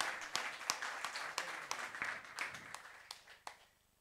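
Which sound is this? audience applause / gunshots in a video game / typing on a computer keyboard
audience applause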